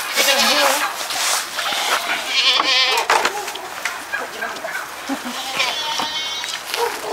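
A goat bleats loudly several times while being loaded into the trunk of a passenger car, with people talking and handling noises around it.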